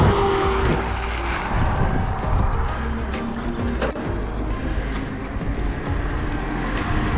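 A vehicle travels along a highway with a steady, loud roar of engine and road noise that stays close and constant throughout, with no one talking.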